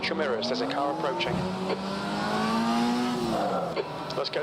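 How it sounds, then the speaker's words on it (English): A race car revs and shifts through gears in the rFactor 2 sim racing game, with its engine note climbing and dropping, continuous and fairly loud, while a person talks over it. "Watch your mirrors, there's a car approaching."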